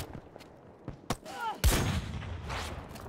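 Gunfire in the video game Battlefield 2042: a few sharp cracks early on, then a heavy close blast near the middle that rolls into a noisy rumbling tail, with scattered shots and other game sounds behind it.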